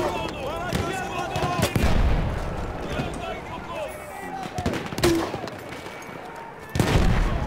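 Scattered gunshots and bursts of fire in Battlefield 1, with several sharp reports spread across a busy battlefield soundscape, mixed with a voice talking and background combat noise.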